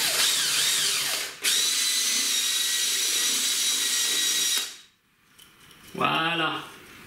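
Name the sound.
power drill drilling a hole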